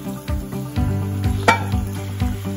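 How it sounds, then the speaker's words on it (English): Ground beef hits a hot pan for Thai kra pao, sizzling steadily while a utensil scrapes and clinks against the pan in a loose repeating rhythm, close and fairly loud. "now the pan's got pretty hot here. So I'm going to put in my ground beef for today."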